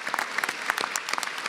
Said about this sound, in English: I think we could have a general round of applause for all our wonderful graduates here tonight